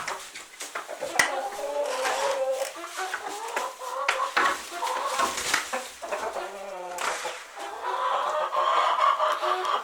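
Homestead chickens cluck and murmur close by in a busy, overlapping stream, with occasional sharper squawks and a brief clatter near a pecking waterer.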